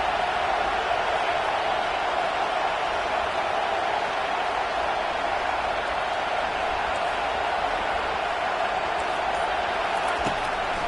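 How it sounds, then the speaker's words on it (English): A stadium crowd at a football game roars for the defense on third down, a broad sustained wall of cheering that holds steady and loud from start to finish with no break. "Decibels rising as the crowd gets behind this defense on third down."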